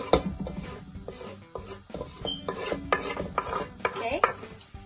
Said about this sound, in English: So pinong-pinong garlic ang gagawin po natin and our ginger.